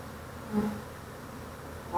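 Honeybees buzzing as frames are shaken off a Flow Hive, a low, faint, continuous drone with a brief swell midway and a louder rise at the end.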